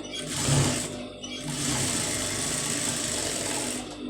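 A sewing machine stitches a patch onto a blouse sleeve, running in a steady continuous whir with a brief pause near the start, fairly close and alone.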